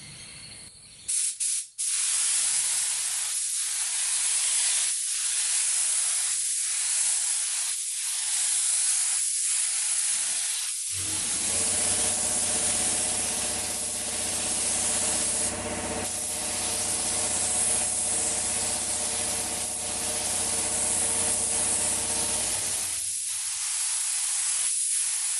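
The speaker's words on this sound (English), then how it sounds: "the next coat that I spray down will be spraying onto something" A steady, loud hiss of a spray gun laying down clear coat on a Toyota Landcruiser 200 Series bonnet scoop, running continuously for most of the clip after a few brief bursts, with a low hum joining midway.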